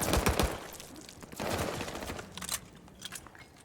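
Bursts of rapid gunfire from an e-sport shooter video game, dense at the start and again mid-clip, with lighter scattered shots and scraping toward the end, fairly faint and without talk.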